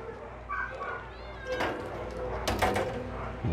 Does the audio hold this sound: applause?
no